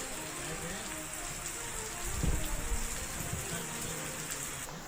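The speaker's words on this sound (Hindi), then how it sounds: "में तेज हवाओं के साथ झमाझम बारिश हुई है।" Heavy rain pours steadily during a storm with strong winds in Lucknow, Uttar Pradesh, a dense continuous hiss of drops hitting surfaces, with a slightly louder gush of water midway.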